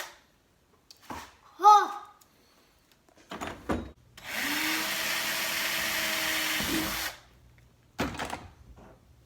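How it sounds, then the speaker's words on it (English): A power drill with a 1-inch hole saw bit cutting a hole in a kayak, heard as a steady whining drone lasting about three seconds, close up, after some handling knocks and brief talk. "Then I'm gonna use a 1-inch hole saw drill bit and pop my hole in."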